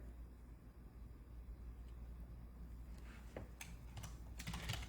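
Typing on a computer keyboard, a burst of soft key clicks in the second half over a steady low background hum, fairly quiet and close.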